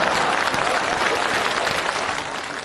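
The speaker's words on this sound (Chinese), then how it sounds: "就这还得鼓掌" An audience breaks into dense, even applause at a comedy sketch staged as a meeting, loud and continuous throughout, easing slightly toward the end.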